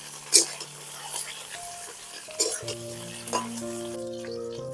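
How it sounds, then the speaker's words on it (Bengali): Tiger prawns frying in hot oil in a pan, a steady soft sizzle with occasional stirring scrapes and clinks, while a voice talks over it and background music plays. "এবার আমি এর মধ্যে চিংড়ি মাছগুলোকে ভেজে নেব"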